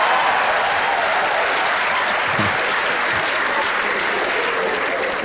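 A stand-up comedy audience breaks into loud, sustained applause mixed with a few cheers, a dense wash of clapping that holds steady throughout, with no talking over it.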